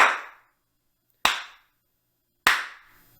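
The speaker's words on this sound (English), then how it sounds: "The next test was 3 sharp claps." Three sharp hand claps in a room being treated to reduce echo, each one loud and close, spaced about a second apart and dying away fast into silence with only a short tail.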